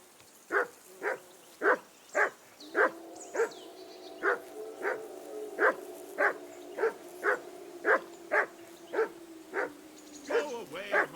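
A dog in Kingdom Come: Deliverance 2 barks again and again at a steady, even rhythm, each bark clear and fairly close, about twenty in all with short gaps between them.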